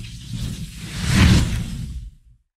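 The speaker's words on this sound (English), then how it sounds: "I use the sound effect called sliding whoosh," A sliding whoosh effect for a spin swells smoothly to a loud peak near the middle, then fades out quickly to silence.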